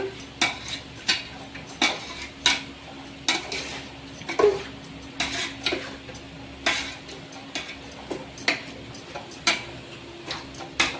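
A spoon stirs biryani masala in a metal cooking pot, making rhythmic clinks and scrapes against the pot roughly every second over a low kitchen hum.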